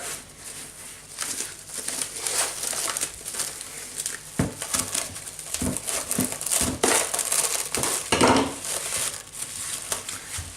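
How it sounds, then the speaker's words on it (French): Plastic cling film is stretched over a dish, giving close crinkling and crumpling rustles with a few sharper snaps and tears, fairly quiet and irregular. "Donc moi j'opte pour la solution du film alimentaire"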